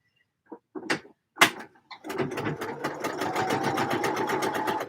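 A home sewing machine starts after a few clicks and knocks, then runs in a fast, steady stitching rattle for several seconds, close and clear with no talk.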